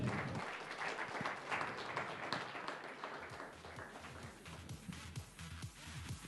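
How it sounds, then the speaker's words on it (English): An audience at an Economic Times innovation event breaking into applause, a dense, sustained wash of many hands clapping at a distance, with a murmur of voices underneath. "Ladies and gentlemen, let's give it up a round of applause."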